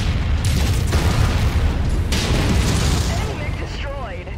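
An enemy mech blows up in Mechwarrior 5: Mercenaries, a heavy, sustained booming rumble that fills the scene and slowly fades, with a voice speaking over it near the end.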